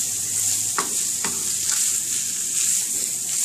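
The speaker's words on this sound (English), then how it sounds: "Give it another toss. And we're just going to cook this until the onions turn translucent." Hamburger meat and onions sizzle steadily in a skillet, with a few quick scraping knocks as the mixture is tossed and stirred, close and clear with no voices.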